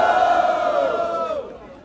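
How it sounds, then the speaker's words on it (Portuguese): Crowd at a Brazilian street rap battle erupting in loud, sustained cheering and shouting that fades over about two seconds. "Ô, Bilhão, foi muito barulho pra essa batalha aí"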